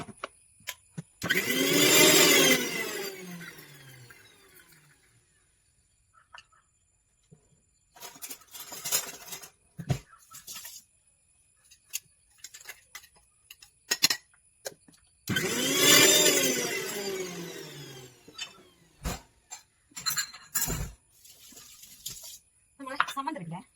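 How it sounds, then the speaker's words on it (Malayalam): A kitchen mixer grinder blends coconut chutney in two long loud bursts of whirring grind, separated by quieter clatter and handling noises. "നമുക്കിതൊന്ന് മിക്സിയിൽ അടിച്ചെടുക്കാം"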